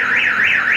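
A car alarm blares on a city street nearby, its siren tone sweeping up and down in a steady, repeating wail that stays loud throughout the short burst.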